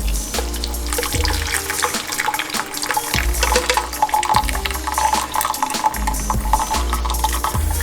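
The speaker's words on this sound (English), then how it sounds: "Now we're gonna drain our beans, and we're gonna keep the sauce." Water from cooked beans pours steadily out as the beans are drained, a continuous splashing, rushing flow close by and fairly loud throughout, with no talking.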